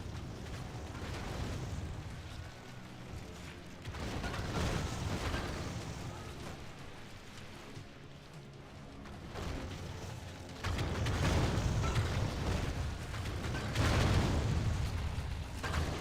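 Explosions in the game Myth: Total War make a dense, continuous wash of rumbling booms that swell louder in later bursts, with heavy low-end weight throughout.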